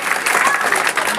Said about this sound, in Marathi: हे दोन्ही आपले शिक्षक बांधव यांसाठी जोरदार टाळ्या वाजवा.